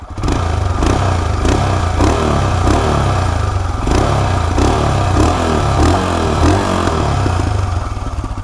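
A Royal Enfield Himalayan motorcycle engine runs steadily and loud for the whole stretch, a single-cylinder thump with a regular pulsing beat and some mechanical clatter, no voices over it.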